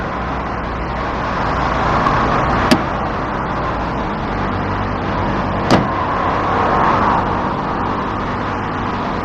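Two sharp latch-like clicks from a car door a few seconds apart, standing out over a steady hum of idling engine and passing road traffic as someone gets into the car.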